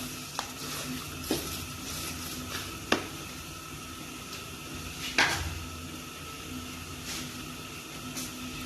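Almonds, pistachios and nuts being stirred into an alsi pinni mixture in a pan, with soft scraping, faint sizzle and a few sharp clinks of the spoon against the metal at irregular intervals.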